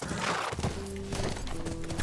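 Horse hooves clip-clop in The Last of Us video game, a quick run of close, rhythmic hoofbeats with a short whinny mixed in, over a low game background.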